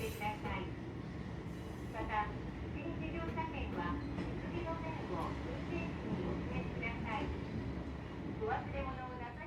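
A Wakayama cat-themed train carriage rumbles along steadily, with a continuous low rolling roar and faint rattles, and voices chatter intermittently over it.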